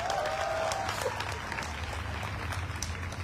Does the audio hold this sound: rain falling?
no